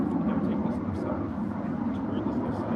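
Jet aircraft passing over near Miramar Navy air base during an outdoor golf lesson, a continuous loud low engine roar filling the whole stretch, with faint voices underneath.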